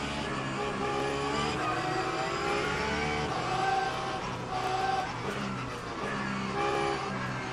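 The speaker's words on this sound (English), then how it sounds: "With these hypercars, you either move or they'll move you." Hypercar engines in the Le Mans Ultimate racing game, a loud, continuous, layered roar of several cars running close together, pitch swelling and falling as they accelerate and shift, with no one talking.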